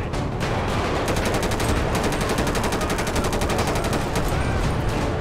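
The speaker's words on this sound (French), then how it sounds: "On voit pas trop où on tire." Sustained automatic gunfire in the police mod LSPDFR for the game GTA V, with rapid repeated shots stacked into a loud, dense barrage that runs continuously with no break.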